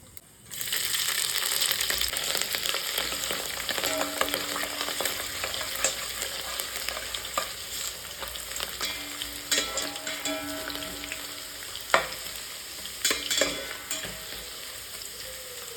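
Whole spices such as cloves, black peppercorns and black cardamom fry in hot oil with ginger and chili for vegetable biryani, giving a steady close sizzle with occasional stirring scrapes and small pops.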